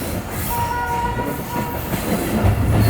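The Karachi Express rumbles around a sharp curve near Hyderabad, a steady rolling roar of wheels and carriages with faint squealing tones from the track and no one speaking.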